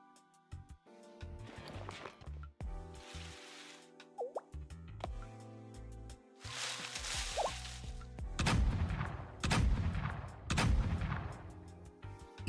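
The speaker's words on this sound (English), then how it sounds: "Yeah, firing shots" Gunshot effects from the Blue Archive video game, a series of sharp bursts and impacts spread across the stretch, with heavier volleys near the end, played without talk.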